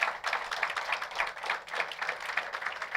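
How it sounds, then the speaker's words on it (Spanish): Church congregation giving a loud round of applause for the Lord, dense steady clapping with rhythmic pulses and a faint voice, filling the whole stretch. "Dale un fuerte aplauso al Señor"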